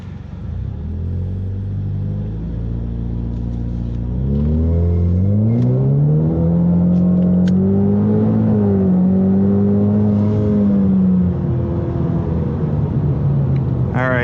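A Ford EcoBoost Mustang launches in second gear off a brake launch, the engine note climbing from a low rumble into a loud rising rev that holds and then eases, with someone talking over it.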